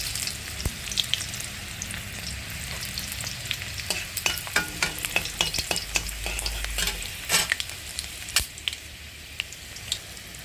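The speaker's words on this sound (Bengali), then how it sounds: "আমার তেল গরম হয়ে গিয়েছে, দিয়ে দেবো রসুন, দিয়ে দেবো শুকনো লঙ্কা" Garlic and dried red chilies frying in hot oil, a steady sizzle with scattered sharp crackles and spatters from stirring, close and alone without talk.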